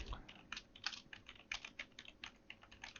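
Typing on a computer keyboard at a close distance, a quick irregular run of key clicks and taps over about three seconds with no talking.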